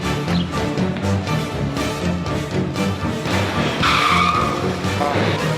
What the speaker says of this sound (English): he peels out like a character from GTA